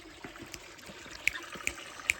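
Water trickles and drips softly at a lake, faint and close, with a few bright droplet plinks near the end and no talking.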